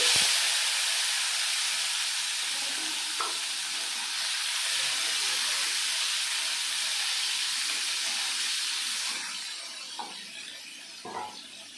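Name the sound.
chopped tomatoes sizzling while frying in pan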